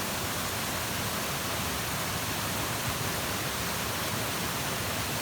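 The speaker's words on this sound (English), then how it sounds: "I'm standing right on top of the waterfall now." Waterfall in rural Portugal heard from the top, a loud, steady roar of rushing water filling the whole stretch without a break.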